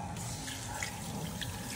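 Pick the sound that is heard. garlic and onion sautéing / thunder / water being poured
water being poured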